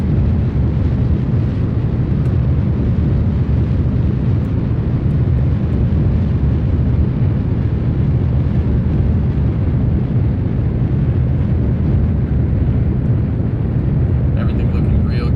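A steady, loud roar of solid rocket boosters thrusting during a Kerbal Space Program launch, a dense unbroken rumble that holds for the whole stretch without pause.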